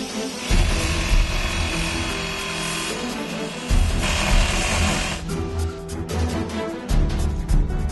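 A cutting tool bites into a bolt taken from a Boeing 737 wing fuel tank, a harsh, loud, continuous grinding buzz that pulses in strength and grows rougher and more broken toward the end.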